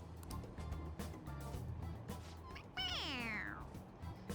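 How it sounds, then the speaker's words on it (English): A plush cat toy in Persona 5 Royal gives a single rising-then-falling meow when pressed, standing out clearly over quiet game background sounds. "It meows when you press on its head."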